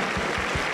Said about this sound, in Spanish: Aplausos para el Señor Jesús